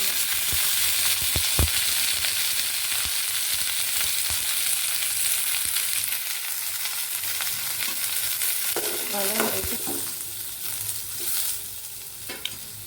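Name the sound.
sautéing onions in a dry pan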